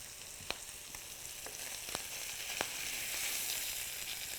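Steak and seafood sizzling in a hot pan with peppercorn sauce just after being flipped, a steady close hiss with a few sharp crackling pops, swelling slightly toward the end, no voices.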